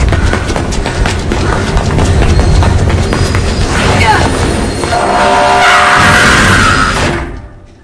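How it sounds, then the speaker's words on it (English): A train rolls past at close range, a loud continuous roar and rumble with rattling cars that builds, holds, then cuts off near the end. "There's a train coming behind you."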